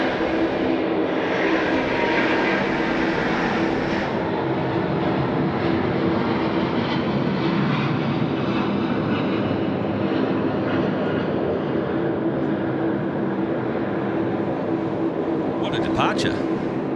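A Cathay Pacific airliner comes in over the threshold to land at Sydney Airport, its broad engine roar steady and fairly loud throughout, with people talking over it.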